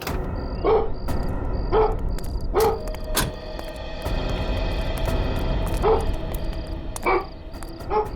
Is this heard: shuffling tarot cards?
no